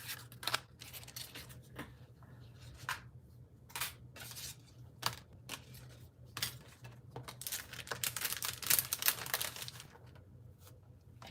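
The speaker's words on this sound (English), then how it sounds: "So we're going to die cut all of these things." Paper shapes are die cut for a stamping craft, making close, crisp crunches, rustles and snipping sounds in irregular bursts over a low steady hum, with no talk.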